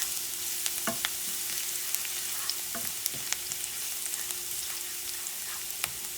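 Pasta and shrimp frying in a hot pot on medium-high heat, a steady close sizzle with scattered sharp clicks and scrapes of stirring, no voices.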